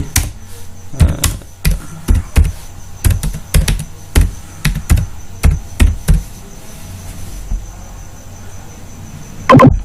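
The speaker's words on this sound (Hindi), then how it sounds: "मैं फटाफट एड्रेस टाइप कर लेता हूँ" An address is typed quickly on a computer keyboard, a close run of crisp key clicks in short bursts that stops briefly before one last flurry of keystrokes.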